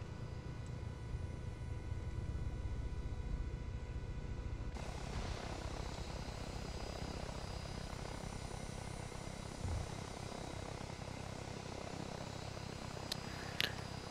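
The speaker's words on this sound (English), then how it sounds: "Seriously, Ender, you're flying this plane very nice." A V-44 Blackfish tiltrotor aircraft flying in the Arma 3 video game, a steady loud rotor and engine drone throughout, with a brief change in tone about five seconds in and a couple of faint clicks near the end.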